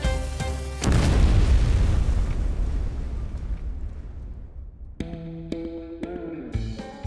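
A deep blast booms in the Soudan underground mine in Minnesota, a sudden loud explosion with a long rumbling decay, after which music rises.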